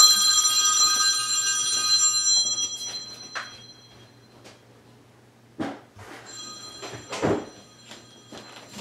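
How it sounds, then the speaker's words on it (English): A mobile phone rings indoors, its electronic tone sounding for the first couple of seconds and then again more faintly later, mixed with scattered handling noises. "Oh, of course my phone would go off."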